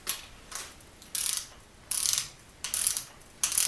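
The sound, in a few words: ratchet wrench tightening an engine bolt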